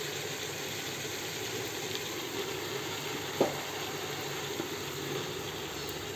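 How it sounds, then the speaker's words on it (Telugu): Gongura sorrel leaves go into a hot pan with tomatoes and hit the oil with a soft, continuous sizzle. One brief sharp clink sounds partway through, and no one speaks. "ఇప్పుడు ఈ గోగాకుని దీంట్లో వేసుకో."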